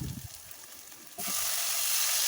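Whole cumin and an onion go into hot oil on one side of a wok: a second of quiet clatter, then a sudden loud sizzle that stays strong and continuous.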